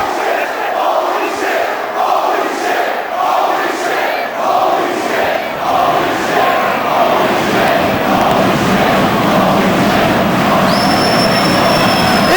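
A packed South Philadelphia wrestling arena crowd at a CZW match roars in a dense, sustained wall of noise, loud and continuous throughout, with a brief whistle-like tone rising near the end.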